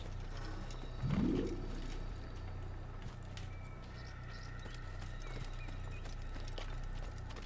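A horse in Assassin's Creed snorts and whinnies once briefly near the start, followed by quiet hoof clopping and ambient birdsong over a low hum.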